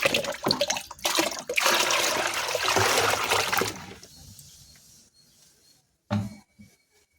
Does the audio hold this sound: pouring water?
yes